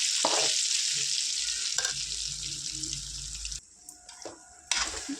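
Mutton for gongura pickle fries in a pan with a bright sizzle and stirring scrapes, then the frying drops away partway through, leaving clinks and a brief return of sizzle.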